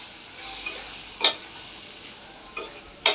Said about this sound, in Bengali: এখন সরিষাটা দিয়ে দিলাম সাথে একটু জল মিলিয়ে